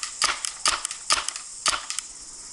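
A paintball PPSh-41 replica fires single semi-auto shots: four sharp, close cracks with shorter rattles after each, spaced irregularly over a couple of seconds with no talking.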